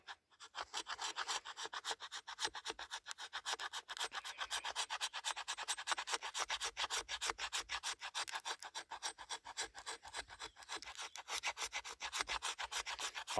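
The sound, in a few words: knife spine carving fine shavings off fatwood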